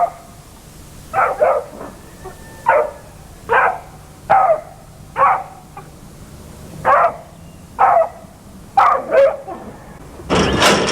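A rabid dog gives a run of roughly a dozen hoarse, croup-like barks and yowls, evenly spaced about a second apart, loud and close, with a low hum beneath.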